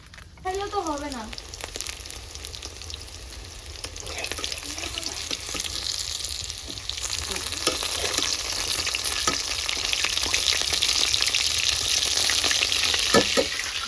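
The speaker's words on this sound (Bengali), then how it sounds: "মাছ ভাজা হয়ে গেছে" Fish frying in a pan gives a steady sizzle that grows denser and louder over time, broken by occasional sharp clicks and spatters from stirring.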